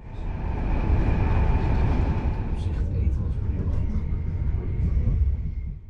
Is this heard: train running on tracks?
yes